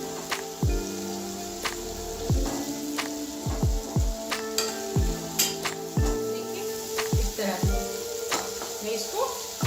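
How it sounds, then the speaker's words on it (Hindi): Spices roasting with tomatoes in a pan for a vrat-style potato and tomato sabzi: a soft, steady sizzle broken by regular spatula taps and scrapes against the pan. "अब मैं इन सबको टमाटर के साथ अच्छे से मसाले को भूनूंगी थोड़ी देर तक"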